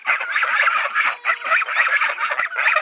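Grown farmyard geese and ducks honk loudly and continuously up close, a dense overlapping chorus of squawks and honks with no talking.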